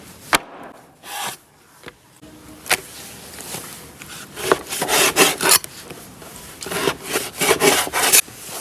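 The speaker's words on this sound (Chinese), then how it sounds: "把大块的改下刀。" A knife cuts large pieces of beef tendon into smaller chunks for hotpot. Irregular bursts of close, scraping, sawing strokes are punctuated by sharp knocks on the board, with short pauses between them.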